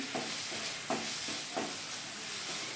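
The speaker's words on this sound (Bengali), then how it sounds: "আদাটা দেখুন ভাজা ভাজা হয়ে গিয়েছে লঙ্কাগুলোকে একটু থেতো করে দিলাম" Ginger and crushed green chillies fry in a pan for bitter gourd chorchori, a soft, continuous sizzle broken by three evenly spaced stirring scrapes, with no voices.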